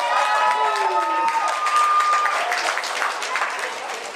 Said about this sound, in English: Come on, give them a big round of applause.